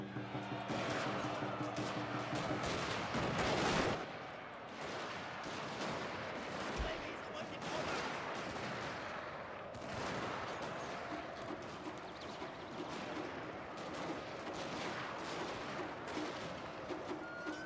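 Volleys of musket and artillery fire in the game Fall of the Samurai on a Tsu campaign battlefield. A heavy crash of fire comes early, then scattered distant shots crackle on under steady battle noise.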